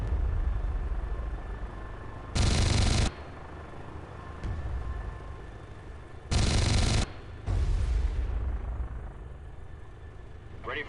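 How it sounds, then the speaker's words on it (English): Comanche 4 helicopter game combat: three loud, sharp bursts of Hydra rocket and cannon fire, each lasting under two seconds, over a steady rotor hum between them. "Now move in and destroy the rest of the vehicles with your hydras and cannon."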